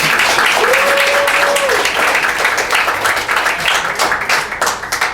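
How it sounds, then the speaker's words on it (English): Audience applause at a festival dating game show, a loud, sustained wash of clapping from a crowd that slowly thins toward the end, with a brief tone sounding early on. "Clap now."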